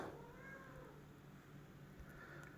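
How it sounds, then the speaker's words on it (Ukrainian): A hairless sphynx cat meows at one in the morning, a soft drawn-out call at the start followed by a second quieter meow near the end, close by over faint background hiss. "І тут мяу."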